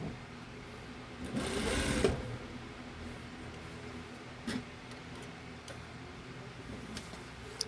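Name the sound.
sewing machine stitching a blazer pocket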